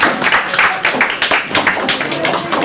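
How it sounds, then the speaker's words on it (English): Audience applause at a school board meeting, a steady wash of many hands clapping together at close to moderate distance, continuing throughout with a faint voice or two underneath. "Lots of clapping tonight."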